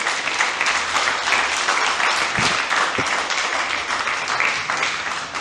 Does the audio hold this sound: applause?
yes